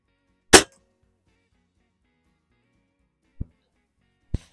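Three sharp rifle shots fired at a target about 25 yards away: a loud first crack, then two quieter reports a few seconds apart, with silence in between and no talking.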